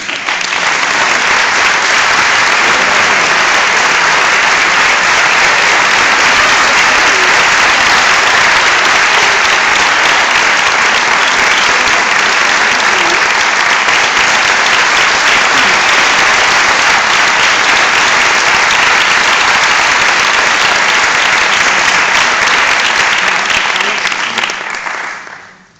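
Loud, dense audience applause welcomes a singer, sustained evenly for about twenty-five seconds before fading at the end.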